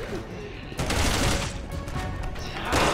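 Gunfire in Resident Evil 6, with dense bursts of shots and impacts filling a busy game soundscape, growing louder midway and again at the end.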